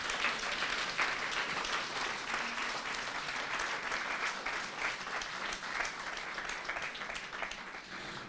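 Audience at a Nikodemovi večeri 2013 evening with the Cenacolo community applauds steadily, a dense, even wash of clapping from a gathered crowd, heard at moderate distance and sustained throughout.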